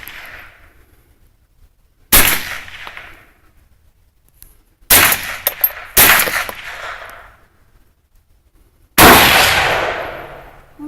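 Four loud, close gunshots ring out at an indoor shooting range, widely spaced with a sharp crack and short decaying echo after each, near silence between.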